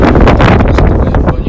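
Wind buffets a microphone outdoors, a loud, rough rumble with gusty pulses over a brief stretch.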